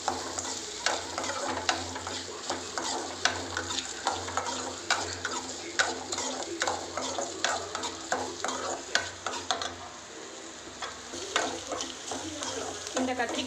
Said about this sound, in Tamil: கடுகு நல்லா பொரிஞ்சு வந்த பிறகு இந்த சின்ன சின்னதாக கட் பண்ணி வச்சுருக்கிற இந்த வெங்காயம், இதை கொஞ்சம் கோல்டன் கலரில் வந்து நீங்கள் வதக்கணும்.